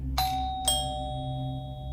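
A front doorbell at an apartment unit rings twice, two bright chimes a half-second apart with tones that ring on and fade slowly over a low background hum.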